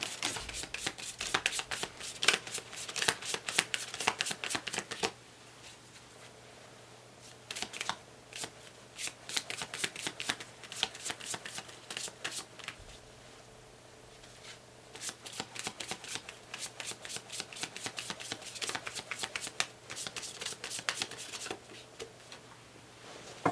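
A deck of Law of Attraction cards is shuffled in quick, crisp riffling bursts, loud and close, broken by two quieter pauses before the flicking resumes; no talking.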